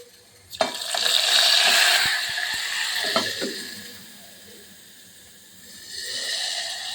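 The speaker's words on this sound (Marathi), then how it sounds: "हे आपण फोडणी घालूया." Hot tempering with garlic and asafoetida poured into a curry: a sudden loud hiss that swells and fades, then rises again, with a few light clinks and no talk.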